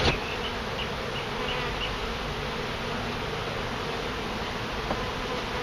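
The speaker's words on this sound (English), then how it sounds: "I want these bees to get the hint to leave" Honey bees buzz in a dense, continuous drone during a hive removal, holding steady and close throughout.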